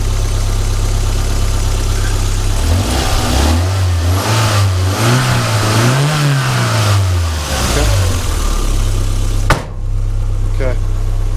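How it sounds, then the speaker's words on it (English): A 1992 Toyota MR2 GT Turbo coupe at a Japanese car auction revs twice in quick succession, its engine note climbing and falling over a steady idle, then a sharp knock before it settles back to a quiet idle. "I'll just do a"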